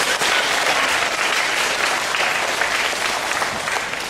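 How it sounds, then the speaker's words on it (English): An audience breaks into sustained applause at a talk about bullying, dense and even clapping from a large crowd that holds steady throughout, with no speech over it. "Yeah, you can clap if you want."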